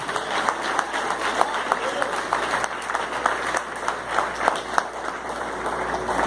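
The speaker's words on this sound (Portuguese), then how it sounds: "Você pode aplaudir o Senhor" A church congregation claps steadily and densely throughout, a sustained wash of applause with scattered louder claps, voices murmuring faintly beneath.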